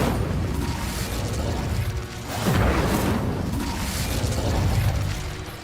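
An Incendio fire spell cast in the Hogwarts Legacy video game, a whooshing, booming burst rising out of steady mechanical game noise midway through and trailing off.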